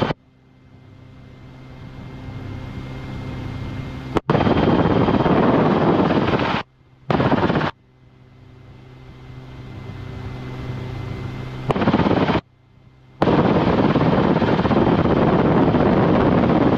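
A Rotorway helicopter comes in to land during a precautionary landing, its steady rotor and engine drone heavy with wind buffeting that repeatedly cuts in and out, loud and close throughout.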